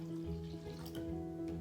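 Cold water is poured into a container for a gelatin salad, a soft continuous splashing trickle with no talking.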